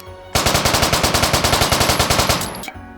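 A long burst of rapid automatic fire from an MPK submachine gun in the H3VR virtual-reality shooter, loud and steady at a fast even rate for over two seconds, then stopping abruptly.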